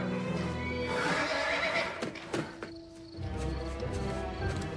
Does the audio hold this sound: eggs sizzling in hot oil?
no